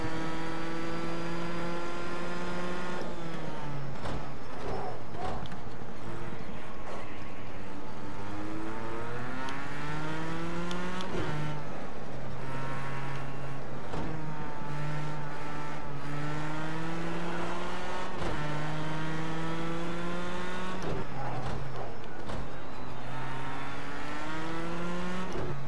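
Formula One car engine in a racing video game, a loud continuous high-pitched whine that rises through the gears and drops sharply on each shift and under braking, with no talk over it.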